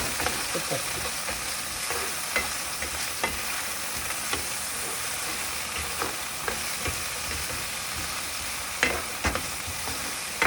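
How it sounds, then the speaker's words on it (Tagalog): Onion, tomato and garlic stir-fried in a pan, giving a steady loud sizzle with repeated scraping clicks from stirring throughout, no voices. "Halo-halo ilang muna natin para magkaroon ng brown yung mga sangkap na sibuyas, kamatis, bawang"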